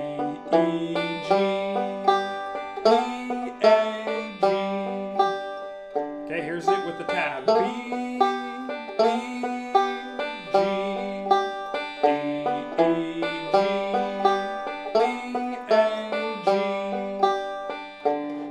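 A plucked melody played with a thumb alternating roll, bright picked notes in a steady rolling rhythm, clear and close with no talk.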